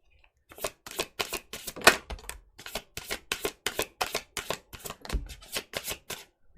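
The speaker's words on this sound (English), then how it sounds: "All right, let's just get these shuffled here." Close, crisp riffle-shuffling of a tarot deck, repeated bursts in an even rhythm over several seconds, heard alone without voices.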